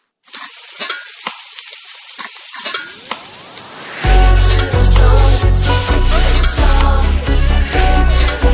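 Onion sizzles and fries in a heated kadhai while being stirred. Scattered light clinks come first, then the sizzle surges loud and steady, close up with repeated scraping stirs.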